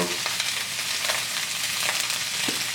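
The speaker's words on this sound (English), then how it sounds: "Now we're going to turn the steak and sear it on the other side" Steak seared on its second side in a hot pan alongside asparagus, a dense continuous sizzle with a few soft spatters, close up and without talk.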